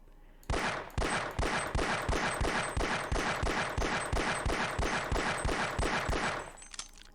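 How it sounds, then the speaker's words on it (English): Rapid pistol shots in Half-Life fired at a crystal, about twenty evenly spaced sharp bangs in a steady quick rhythm, loud and close, stopping after roughly six seconds. "we're going to take out the pistol and destroy this final crystal finally"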